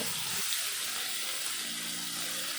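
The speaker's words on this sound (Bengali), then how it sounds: "দিয়ে দিলাম তেলের ভিতরে এইভাবে সুন্দর করে মাছ আমি ভেজে নেব" Fish coated in turmeric and salt frying in hot oil, a steady broadband sizzle that holds evenly throughout, close and moderately loud, with no talking.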